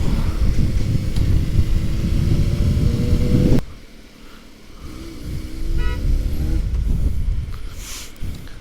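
A car horn, on a VW, beeps behind a 2004 Honda CBR600RR motorcycle. Loud engine rumble dominates, then drops away, and short, bright horn toots come through the quieter road noise.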